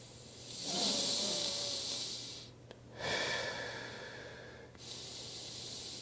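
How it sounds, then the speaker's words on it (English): Slow, deep breaths drawn in through the nose and released, long airy hissing inhalations and exhalations close to the microphone, with no speech. "Really focus on that feeling of breathing."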